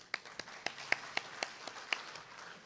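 Audience applause welcoming a patent attorney lecturer at a seminar: a short run of sparse, evenly spaced claps, fairly faint, with no talking over them.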